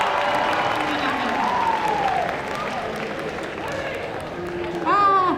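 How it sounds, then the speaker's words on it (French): An audience claps and cheers at a singing and dance contest at the Clermont Geek Convention 2023, a steady broadband wash of hands with crowd noise and some tonal sounds mixed in, swelling slightly near the end. "Allez, on applaudit bien fort."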